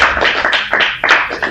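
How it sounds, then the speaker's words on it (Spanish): Congregation in a church clapping for the Lord, a burst of close, loud hand claps in uneven rhythm, several distinct sharp groups over a moment, with no talking. "Denle un aplauso al Señor, hermano."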